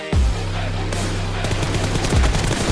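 Rapid close gunfire in a PUBG Mobile team deathmatch, loud bursts of automatic shots with heavy booming impacts, played over a steady dense game-music backdrop.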